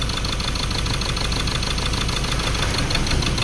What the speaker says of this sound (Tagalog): ibalik mong paandarin ang makina, Libon James.